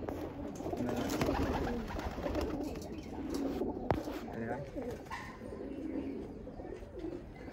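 Pigeons at a pigeon tournament keep up soft, overlapping cooing throughout, with a low steady murmur of birds and a brief sharp knock partway through.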